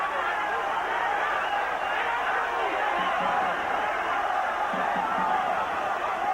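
A boxing crowd in Quito, Ecuador, roars for home fighter Segundo Mercado against Bernard Hopkins, a dense, constant wash of cheering and chatter that fills the arena without a break.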